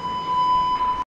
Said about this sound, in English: Apparently the beeping noise is the fire alarm.